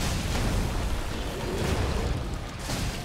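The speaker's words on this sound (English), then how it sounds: "there's the explosion thing" A loud, rumbling explosion fills the Dark Souls 3 game scene as a broad, sustained roar of blast noise that runs through the whole stretch without fading, with no voices over it.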